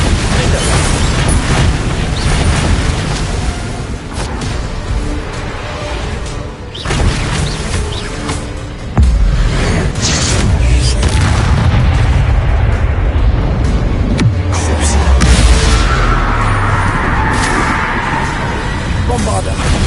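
Spell explosions in the video game Hogwarts Legacy, loud, heavy booms and bursts layered over a dense battle soundscape with music, repeated through the scene, while voices speak over them.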